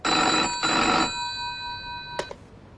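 An old telephone bell rings in two loud, close bursts, followed by a couple of clicks as the receiver is picked up.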